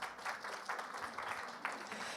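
Audience applause at an aviation conference, a steady wash of many hands clapping together for a couple of seconds, fairly close and even throughout.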